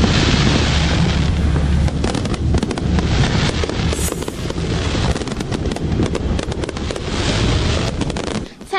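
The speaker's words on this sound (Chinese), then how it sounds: "十色的烟火绚烂夺目，在高雄的夜空散漫开来" Fireworks burst over the Kaohsiung lantern festival at night, a loud continuous barrage of cracks and booms crowding together with no pause throughout.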